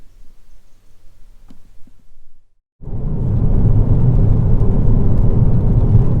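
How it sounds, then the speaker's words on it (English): Near silence, then a Ford Fiesta ST180 with a Whoosh Motorsports crossover pipe rumbles into a loud, steady drone of exhaust while driving, continuing to the end. "let's take it for a drive and see how it drives and if there's any difference in sound"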